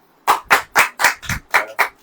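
Audience clapping at a sermon gathering, heard as seven distinct, evenly spaced bursts of applause roughly a quarter second apart, fairly loud and with no talking over it.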